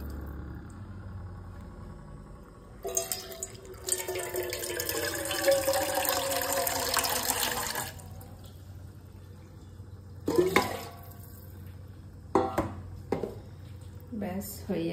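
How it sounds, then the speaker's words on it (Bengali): Water pours into a cooking pot that already holds salt and mustard oil, a bright rushing splash lasting several seconds, followed by quieter knocks and clatter as the pot is set down. "এবার দিয়ে দেব জল"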